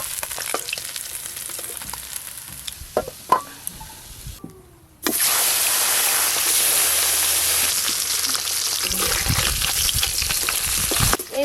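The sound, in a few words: parshe fish frying in oil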